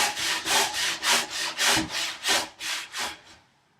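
A hand saw cuts the cheeks of a wooden tenon for a workbench build, about eight even back-and-forth strokes up close, loud and rhythmic, then it stops.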